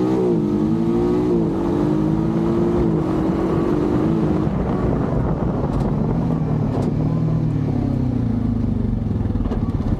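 A new Honda Pioneer 500 side-by-side accelerates from first gear, its engine droning loudly and rising in pitch, dropping at each gearchange, with steady rumble and clatter close up throughout.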